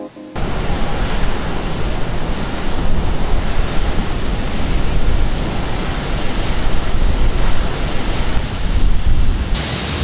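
A NASA launch pad water deluge system sprays with a loud, steady roaring rush of water, broadband and continuous from start to finish, like heavy surf.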